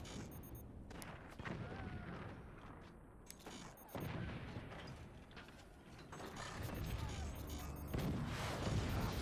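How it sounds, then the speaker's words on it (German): Cannon shots and explosions from the game Forts, a string of booming blasts and rumbling impacts at irregular intervals, fairly loud and dense, with faint talk in the background. "Hat sich gelohnt, der Kanonenschuss."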